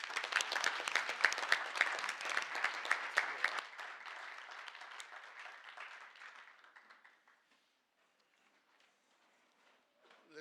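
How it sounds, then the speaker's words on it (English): An audience at a school board meeting applauds a vice principal with a dense burst of clapping that fades steadily over several seconds into near silence, heard from some distance in the room. "Let's give him a round of applause"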